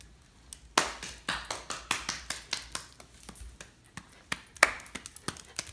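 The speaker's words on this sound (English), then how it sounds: "go ahead and clap your hands." Sharp, close hand claps at an uneven pace during dog training, some louder than others, with short gaps between them and a quiet room around them.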